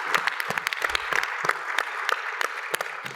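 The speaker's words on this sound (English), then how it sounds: "if I can get another big round of applause for all their hard work" An audience at an insurance industry event applauds the organising team. Sharp separate claps sound fairly close, giving a thinner, uneven round of applause with no talk.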